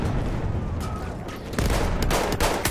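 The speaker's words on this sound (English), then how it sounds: "I was sure I was shooting at someone there, but it weren't hitting him." Rapid gunfire and bursts of shooting in the World War I shooter Battlefield 1, a dense, loud barrage of cracks and booms that fills the whole stretch without pause.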